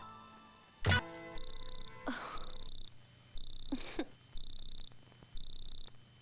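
An alarm clock gives five evenly spaced bursts of rapid high-pitched beeping, with short sharp knocks and rustles in between.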